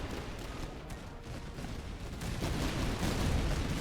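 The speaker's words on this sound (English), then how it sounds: "we've got these light infantry firing" Light infantry musket volleys crackle in a Master of Command strategy game, a dense, continuous rumble of overlapping gunfire that builds slightly louder toward the end.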